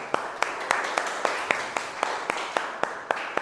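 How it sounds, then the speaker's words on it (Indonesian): A school class claps for a classmate in a steady, sharp, rhythmic beat, several hands in unison at a brisk even pace under a hiss of room noise. "Oke, tepuk tangan untuk teman kita."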